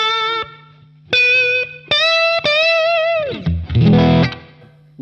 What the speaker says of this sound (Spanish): Muy simple, con un poquito de delay corto, tipo eco, y un reverb cortito también.